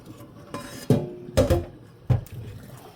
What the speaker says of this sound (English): I'm going to drain my potatoes.